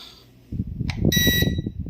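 An SG109 Pro drone remote controller gives a brief electronic beep over a low rumbling background. It is a short, bright tone heard once, close to the listener.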